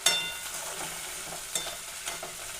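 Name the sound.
heating ingredients in oil in a pan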